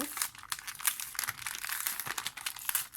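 Paper wrapping is torn open by hand without scissors, giving close, crisp bursts of crinkling and ripping in quick, irregular succession.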